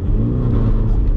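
A car accelerates in first gear for a spin turn, a short, close burst of steady engine roar and rumble with no voices over it.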